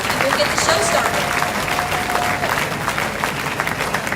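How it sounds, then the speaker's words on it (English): An audience claps for the scholarship participants at the Southeast Iowa Showdown, a dense, steady round of applause that fills the room, sounding near and loud throughout with crowd noise mixed in. "if we can all give these guys a huge round of applause"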